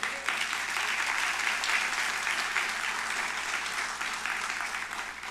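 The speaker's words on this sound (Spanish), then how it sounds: "Dele un aplauso a Dios por eso." Sustained applause from a church congregation, steady dense clapping filling the room for several seconds, with a faint voice or two underneath.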